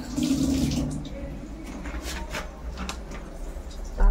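Water pours from a tap into a small bowl of sesame and poppy seeds in a kitchen, a close splashing gush that is strongest at the start and then settles into a softer trickle, with a voice speaking briefly alongside.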